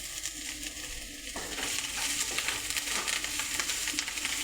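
Mint and coriander leaves sauté in hot oil in a pan, a quiet hiss that swells into a steady, close sizzle after the first second, with light stirring throughout.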